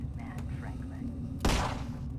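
A single loud burst of enemy gunfire in a shooter video game, a sharp blast with a short noisy tail rising over a steady low game hum, with a voice talking underneath.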